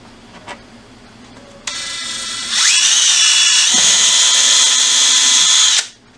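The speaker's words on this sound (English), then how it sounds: "Drill a pilot hole and screw in the first of your eye hooks." A DeWalt power drill bores a pilot hole for an eye hook. The motor spins up with a whine that rises to a loud, steady high pitch, holds for about three seconds, then cuts off abruptly.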